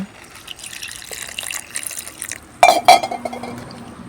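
Water splashes into a metal pot in a short burst, with clinks of vessels before and after.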